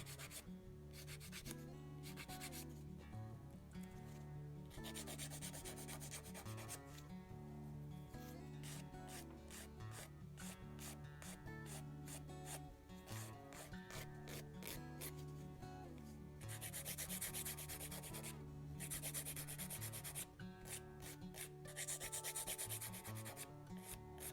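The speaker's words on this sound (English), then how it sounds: "I start with filing first." Fingernails are filed with a nail file while glitter dip powder is applied, giving close, continuous scratchy rasping in quick back-and-forth strokes with no talk.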